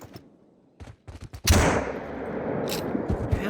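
Hunting rifle shots in the video game theHunter: Call of the Wild, a few faint clicks and thumps followed by one loud close report that rolls into a long echoing tail.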